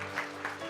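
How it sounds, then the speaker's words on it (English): Brief burst of clapping from a church congregation, a scattered patter of hands swelling and fading over under a second, with faint background hum. "Any applause for those guys?"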